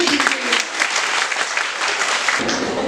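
A group at a self-defence training session breaks into lively clapping, a full burst of applause that shifts in tone near the end as a voice comes through.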